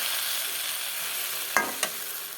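Hot water poured into sizzling fish masala in a pan, a steady hiss of frying with two sharp bursts of splashing sizzle as the water hits, close and alone.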